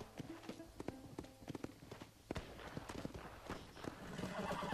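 Horse hooves clip-clop at a walk in Red Dead Redemption, irregular thuds close by, with a brief whinny and quieter ambient game sounds building toward the end.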